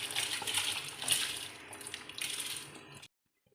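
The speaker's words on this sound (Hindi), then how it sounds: "ये देखें, मैंने चावल डाल दिए हैं।" Rice pours into a pot of boiling water for white matar pulao, a steady hissing, bubbling wash of water that stays close and fairly quiet, then stops abruptly near the end; no speech.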